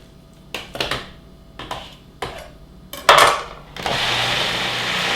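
A food processor is knocked and handled with several clattering thumps, then starts up and runs with a steady whir as it blends barbecue pâté.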